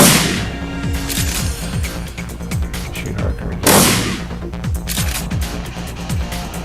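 Gunfire in the video game Shadowrun Returns, played over a tense soundtrack: sharp shots come in rapid bursts, with one louder crashing blast near the middle.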